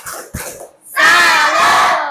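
A classroom group of voices shouts a short cheer, then chants loudly together in unison for about a second, a sustained close chorus with only a single clap-like hit near the start.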